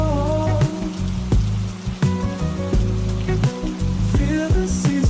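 Steady rain patters as a continuous hiss across the whole stretch, partly masked by a louder melodic music bed with deep bass notes.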